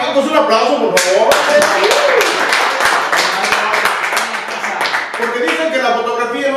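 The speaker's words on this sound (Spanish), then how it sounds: "un aplauso, por favor" An audience at a Los Angeles show claps for a guest, the sharp, steady applause filling the clip while voices carry on underneath.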